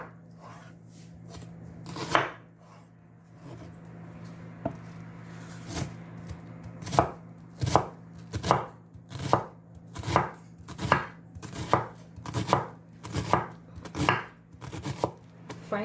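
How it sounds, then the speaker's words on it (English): A big knife finely chopping onions on a board for an Indian bread peas masala, sharp close knocks that start sparse and build into a steady quick rhythm over a low background hum. "we'll use a big knife and I'll be chopping it"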